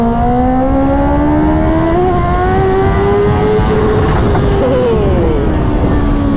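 A Kawasaki Ninja 650 with an Akrapovic exhaust or a Honda CBR 650R accelerates hard in second gear at a race track, its loud engine note climbing steadily in pitch, close and continuous throughout.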